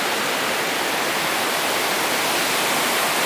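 Thác Mây waterfall in Thanh Hoá roars as a steady, dense wash of falling water, loud and continuous throughout with no voices.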